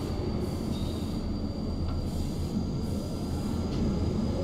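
DB BR155 electric locomotive running on the Munich–Garmisch line in Train Simulator, a steady loud rumble of wheels on track with a faint high whine and occasional squeals, continuous throughout.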